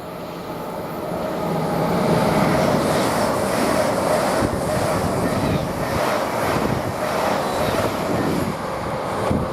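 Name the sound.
LNER train passing through Grantham station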